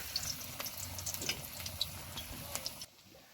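Drumstick leaf fritters (bora) fry in hot oil with a steady crackling sizzle dotted with small pops, close and fairly quiet, cutting off just before the end.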